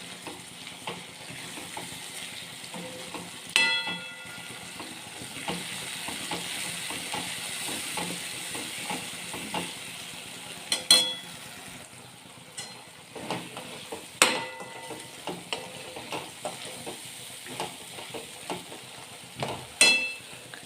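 Garlicky Kathiyawadi ridge gourd curry fries in a pan on a village clay stove as about 1.5 spoons of coriander-cumin powder goes in. A soft, steady sizzle continues throughout, broken by repeated sharp spoon scrapes and clinks as it is stirred.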